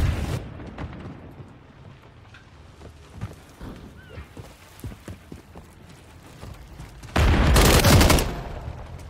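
Gunfire in the multiplayer video game Call of Duty Modern Warfare III: scattered sharp shots and impacts through a match, ending in a loud sustained burst of fire near the end.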